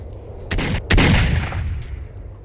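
Two sharp gunshots ring out close together in the S.T.A.L.K.E.R. video game, the second louder and followed by a brief decaying echo.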